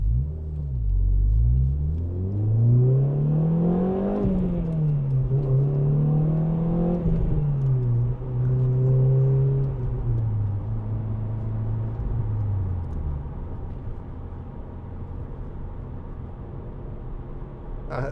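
2010 Renault Clio 2.0 VVT Renaultsport three-door hatchback engine revving hard on a winding road, rising and falling through the gears with a deep rumbling note that fades into steady cruising drone, heard from inside the car.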